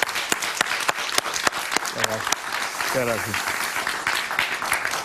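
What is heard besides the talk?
studio audience applause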